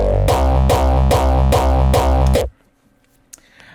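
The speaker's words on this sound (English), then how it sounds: "I'm going to show you the plain kick, how it sounds like." A plain kick drum sample plays in Cubase, five loud, evenly spaced deep booming hits in quick succession that stop abruptly into near silence.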